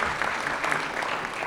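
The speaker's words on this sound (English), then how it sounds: "Please give the big round of applause in appreciation" Dense, continuous audience applause at a spiritual wellness festival in New York City, a steady wash of many hands clapping without pause.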